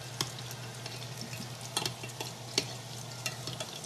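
Lumpia spring rolls fry in hot oil in a pan, a steady close sizzle with occasional crackles and stirring taps, no voices.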